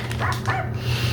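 A dog gives a few short, yipping barks close by, quick high-pitched bursts over a low background hum.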